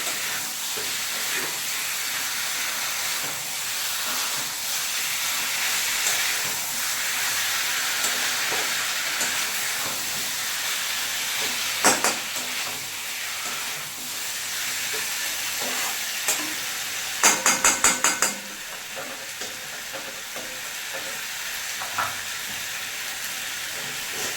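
Mutton and chicken curry fries in a kadai, a constant close sizzle with spoon scrapes and stirring knocks, including a quick burst of metallic clatter partway through, no voices over it.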